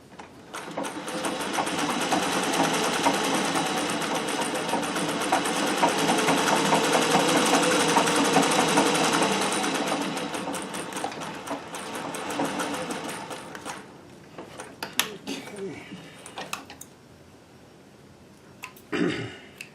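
A treadle-powered Singer 411G sewing machine with a custom balance wheel stitches at its longest stitch length, giving a loud, steady mechanical whir for about thirteen seconds before it slows into scattered softer clicks and knocks.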